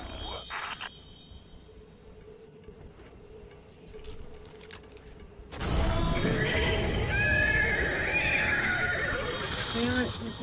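A horse whinnies inside Destiny 2, the game's neigh arriving suddenly after a quiet stretch and continuing loud and busy with overlapping game sounds and a voice.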